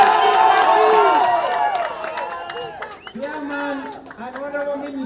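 A crowd at a public gathering with a government minister present claps and cheers for a chairman, loud at first and then tapering into scattered voices and shouts.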